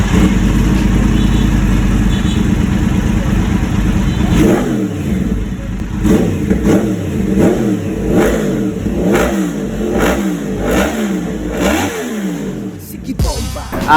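A Yamaha R1 motorcycle with a dual Villain Conqueror full carbon exhaust idles loudly up close, then gets blipped repeatedly in a rhythmic series of sharp revs.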